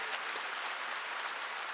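A church congregation at a revival meeting in Gunsan claps together, a steady broadband wash of applause that stays even and sustained throughout, with no voices rising above it.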